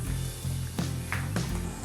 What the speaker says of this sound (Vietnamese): Rồi mình chiên cho đến khi hơi vàng lên là được